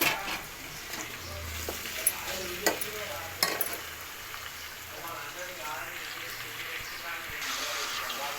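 Chicken fries in a pan after ginger garlic paste has gone in. A continuous sizzle runs throughout, with scattered scraping and clacking as it is stirred, and a voice speaks at times.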